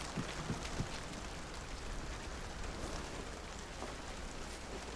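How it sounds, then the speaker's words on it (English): Heavy rain pours steadily in a video game, a dense, even hiss with faint patters and no breaks. "Yeah, it's heavy raining."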